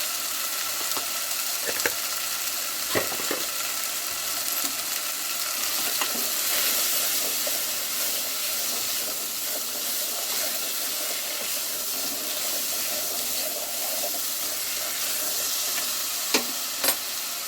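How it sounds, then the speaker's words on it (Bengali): Chilli and turmeric powder with spices stir-fried in a pan, a steady close sizzle with scattered sharp scrapes of a utensil against the pan. "দিয়ে আমি ভালো করে মশলার সঙ্গে কষাচ্ছি।"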